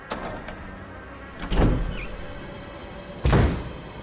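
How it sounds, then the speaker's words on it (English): Door sounds in the survival horror game Resident Evil HD Remaster: a faint creak or rattle, then two heavy thuds a couple of seconds apart, each followed by a short rumbling decay, with no talk. "let's open this door and find out what is on the other side"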